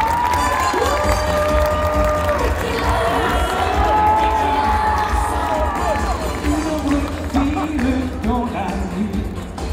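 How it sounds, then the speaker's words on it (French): A convention crowd at a Paris manga event cheers and applauds loudly, with whoops and high shouted voices rising over dense clapping and steady background music. "je demande un tonnerre d'applaudissements pour mon homme"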